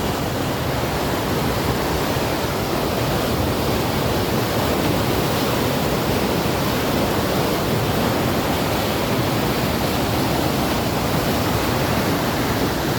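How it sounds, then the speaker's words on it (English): Water pouring over the sluice weir on the River Cam in Cambridge in February, a continuous loud roaring rush of falling water, steady and close, with no voices. "Keep clear of the sluice. Whoa, quite high."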